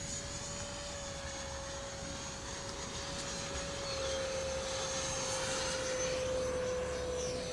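Radio-controlled 70mm EDF F-16 jet flying past, its ducted fan giving a steady high-pitched whine that holds at a constant, moderately loud level throughout, with no talk.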